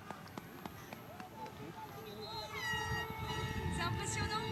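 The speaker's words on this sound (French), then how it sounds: "Vous devez entendre les klaxons." Boat and car horns honk repeatedly in a harbour channel as a solo sailor arrives, with rising toots layered over a busy outdoor crowd and people talking nearby.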